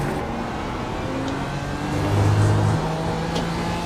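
Mazda Miata race car engine in the iRacing sim during a four-hour production car endurance race at VIR, a steady mid-pitched drone that swells slightly in the middle, with no voices.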